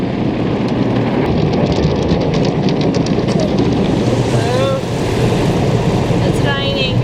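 Dense water spray from an automatic car wash pounds the car like a heavy rainstorm, loud and continuous, with a voice and other voices heard inside.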